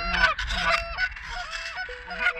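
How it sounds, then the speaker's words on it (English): Loud, close goose honks come in a rapid, uneven series while a lone goose is being called in during a goose hunt, with no talk. "we see a loner goose and call it in"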